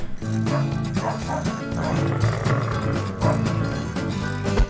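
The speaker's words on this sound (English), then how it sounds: "I'm getting pursued by dogs already." A pack of unleashed dogs barks during a hike in Ecuador, many overlapping barks and yips in rapid succession, loud and close, continuing throughout.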